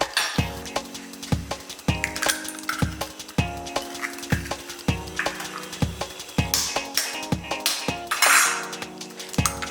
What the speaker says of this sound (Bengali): প্রথমে আমি ডিমটা মিক্সড করে নিচ্ছি।